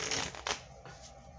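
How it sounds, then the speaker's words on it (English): A deck of playing cards gets a quick riffle shuffle up close, a brief dense burst of papery fluttering and snapping that settles within about a second. "maybe give it a shuffle or two"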